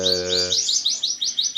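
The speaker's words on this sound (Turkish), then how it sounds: "Şurada duyduğunuz bütün kuşlar ötüyor." Bright, rapid chirping and warbling from male Malta canaries, with a steady trilling pattern, accompanied at first by a low hum.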